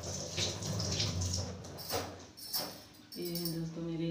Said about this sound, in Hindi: मेरे आलू छोटे चुके हैं, मैं धो लेती हूँ।